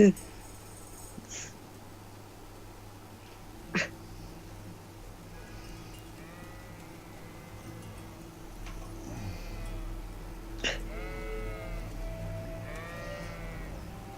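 Sheep in the medieval role-playing game Kingdom Come: Deliverance bleat in several wavering calls, some fairly faint and others clearer, over a low steady game ambience. Someone talks at times.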